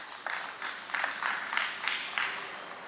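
Handful of people clapping for a school team at a secondary schools spelling bee, a few loose claps repeating in a steady rhythm, fairly close, alone without talk.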